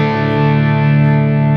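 An electric guitar tuned down a whole step to D standard rings out as one sustained distorted strum, a thick wall of tone with chorus shimmer, loud and close.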